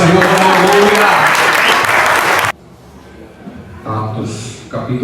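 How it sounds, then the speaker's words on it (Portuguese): A church congregation at a missions service claps loudly in a dense burst of applause that cuts off abruptly halfway, followed by quieter room sound and a voice speaking. "Aplauda o nome do Senhor, aleluia."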